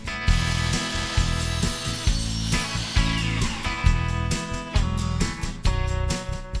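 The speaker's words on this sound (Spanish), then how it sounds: "Después lo llevo a la ingleteadora para cortar sobre la marca." A miter saw cuts wood on a marked line in a home workshop while a desk is built, its motor whining loudly with repeated rising and falling bursts as the blade bites, close and continuous without talking.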